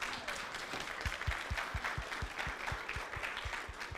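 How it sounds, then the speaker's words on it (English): Audience clapping at a school district community forum for students and educators, a thin, moderate spread of applause with a few distinct nearby claps in a loose steady rhythm. "So can we take a moment to, I don't know, clap?"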